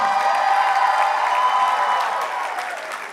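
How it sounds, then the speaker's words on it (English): A film premiere audience applauds the cast and crew in a steady, full burst of clapping from a large crowd, holding strong and then easing slightly toward the end. "please give the cast and crew a round of applause"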